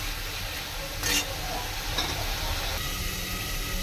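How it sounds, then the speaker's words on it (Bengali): Spices sizzle in oil in a pan on the stove, a steady, soft hiss with occasional scraping stirs and small crackles, close and continuous. "জিরাটা ভালো করে ভাজা হবে, এটা ভালো গন্ধ বেরোবে"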